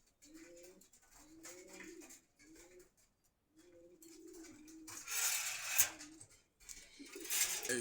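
Caged pigeons, including a doyas pair, coo in a Dhaka market at Meradia Bazar, Khilgaon: a series of soft, rounded, evenly spaced coos nearby, then louder hissing market bustle and a few more coos toward the end.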